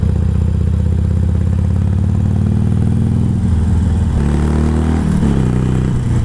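A Harley-Davidson Sportster Iron 883 cruiser engine rumbles loud and close in a steady, deep idle-like throb that shifts slightly in pitch toward the end.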